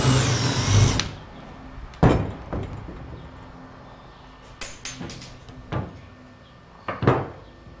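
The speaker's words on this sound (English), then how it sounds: "We're going to drill through everything here." A power drill bores through assembled parts of a Skybolt PPG paramotor frame in several short, sharp bursts separated by quiet pauses, close and fairly loud.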